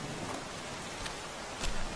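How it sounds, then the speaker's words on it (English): Steady, even rain hiss in the video game The Walking Dead, with a faint patter of drops and no voices. "It's always fucking raining."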